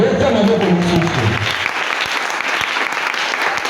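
Audience at a French-language church seminar breaking into applause, a dense steady clapping that fades out over a few seconds after voices and music at the start.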